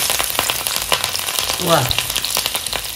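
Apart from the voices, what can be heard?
garlic and curry leaves frying in groundnut oil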